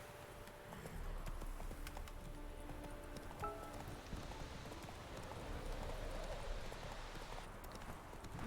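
In a video game, the horse Roach trots, and the quiet hooves give a steady, rhythmic clip-clop that runs through the whole moment at moderate distance, with faint ambient noise behind it.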